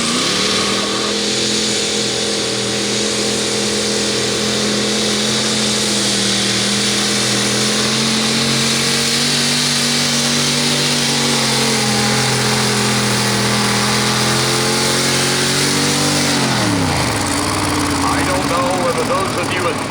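A supercharged pulling tractor roars past the sled track at a tractor pull, a loud sustained engine drone that shifts pitch as it passes and then drops off near the end, with an announcer talking over it.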